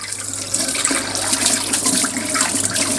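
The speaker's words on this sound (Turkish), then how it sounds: "Şimdi bunu yıkıyorum." Tap water runs in a steady splashing stream as a salmon is rinsed under it, close and continuous throughout.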